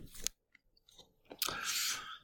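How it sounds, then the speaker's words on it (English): A person chewing gum close by in a quiet room, with short wet crunching bursts separated by pauses, the last burst longer and louder. "Stop chewing gum."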